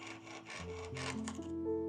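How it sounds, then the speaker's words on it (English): A beeswax-lubed jeweler's saw cuts excess metal from a ring with a few quick faint rasping strokes, then a resonant metallic ringing tone lingers as the cutting stops. "I lube up my jeweler's saw with beeswax and start to saw away all the excess metal"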